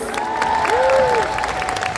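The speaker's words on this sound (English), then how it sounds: "Let's give a round of applause for the first part of the panel" Convention panel audience at MCM London clapping and cheering, a dense wash of applause with voices and a sustained vocal tone rising over it, loud and continuous for the whole stretch.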